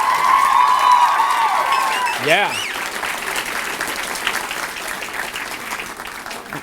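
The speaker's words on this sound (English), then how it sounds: "Another round of applause for her." Audience applause at The Woodward School's Founders' Night fills a hall with broad, sustained clapping that slowly thins out, following a short spoken line and a single voice.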